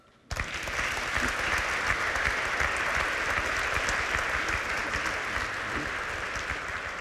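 An audience at a regional business awards gala breaks into sudden, dense clapping that holds steady and loud for about seven seconds, a thick unbroken wash of many hands with no voices over it.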